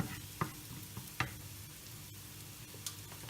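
Onions sautéing with spice powders for a simple chicken roast, a soft continuous sizzle broken by a few sharp spatula scrapes and knocks against the pan, no talking.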